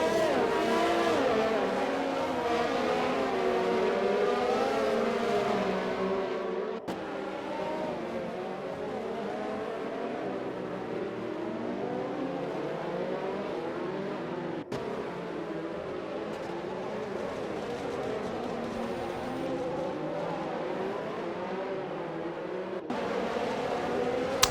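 Race car engines in an Xbox racing game, the Azerbaijan Grand Prix, a steady droning whine of several cars rising and falling in pitch as they accelerate and shift, with brief cuts in the sound.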